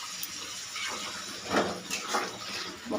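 A small amount of water pours into a cooking pot while vegetables, paneer and capsicum cook, a soft steady splash with a few brighter gushes, close and moderately quiet.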